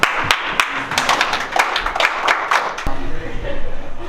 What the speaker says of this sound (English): We're going to do that again, and I want a clap from everybody.